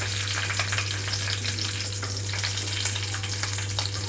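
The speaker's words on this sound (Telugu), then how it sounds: "ఇక్కడ ఆయిల్ కొంచెం హీట్ అయిందండి, ఇందులోకి పచ్చిమిరపకాయ ముక్కలు వేసి వేయించుకుంటున్నాను." Green chili pieces fry in hot oil in a pan, making a loud, continuous crackling sizzle with no pauses, under a low steady hum.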